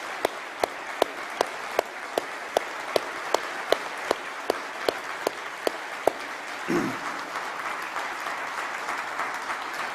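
Audience applause at a UKIP conference in Doncaster, starting as sparse, evenly spaced individual claps and swelling into steady broad clapping from a crowd, with a brief low thump partway through.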